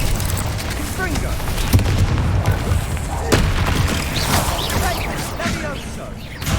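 Fire-blast spell cast in Hogwarts Legacy, heard as a sustained roaring, booming burst with sharp impacts near 1.7 and 3.3 seconds over dense rumbling combat noise, and fainter game voices underneath.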